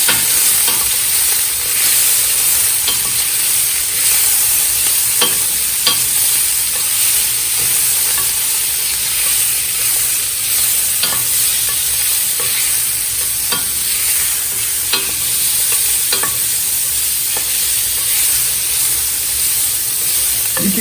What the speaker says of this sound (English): You just kind of want to stir it up.